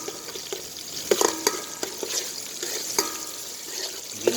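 Garlic and onion sautéing in a pan, a close steady sizzle broken by repeated scraping clinks of a spatula stirring, with no talk over it.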